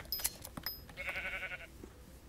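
Sheep in the blocky Minecraft world of Hypixel Skyblock bleat once, a short, clear synthetic baa standing alone over faint game ambience.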